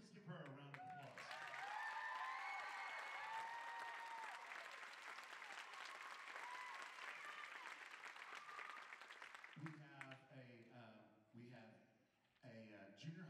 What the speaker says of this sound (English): So please give her a round of applause.